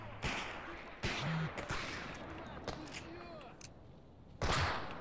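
Gunfire in the video game STALKER, heard as a few sharp, loud shots spaced apart, including a last one near the end, over a steady ambient backdrop.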